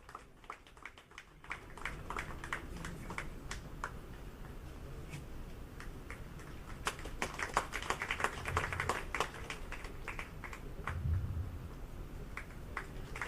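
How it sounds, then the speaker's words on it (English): Audience clapping for Professor B.S. Murthy at a commemorative ceremony, sustained scattered applause from a seated crowd that starts softly and swells into steady clapping. "Can we please give another bigger round of applause for Professor B.S. Murthy Garu for his outstanding contribution."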